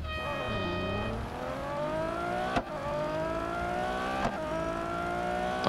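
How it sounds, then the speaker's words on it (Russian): LaFerrari engine in a racing video game revving hard and climbing steadily through the gears, with two brief shift breaks as the rising whine continues, loud and close with no talk. "Ля Феррари"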